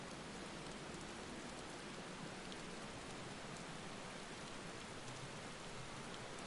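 Steady heavy rain pours down in the Final Fantasy XVI video game, a dense, even hiss of falling water that fills the scene without a break and with no voices over it.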